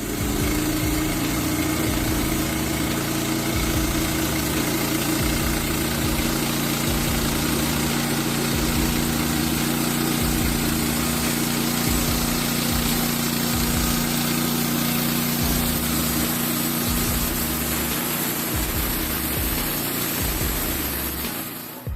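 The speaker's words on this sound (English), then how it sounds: "Norwood LM29 is a portable sawmill ideal for woodworking enthusiasts." Steady engine drone from a Norwood LM29 portable sawmill running at a constant idle for the whole stretch, loud and close, with an even low rumble and no voices.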